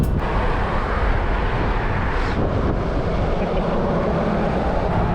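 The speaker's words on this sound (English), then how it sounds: "I'm ever gonna get tired of hearing that diesel motor and turbo whistling" Diesel engine of a Jeep Gladiator on 37-inch tires with its turbo whistling, a steady loud drone heard from the cabin while driving, broadband rumble with wind noise and no talk.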